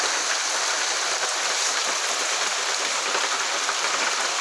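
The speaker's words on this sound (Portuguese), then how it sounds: "Aqui tá chovendo, isso. Chovendo e bem aqui agora." Rain pours onto roof tiles in northeastern Brazil, a dense, even hiss that holds steady and fairly loud without a break, with no voices over it.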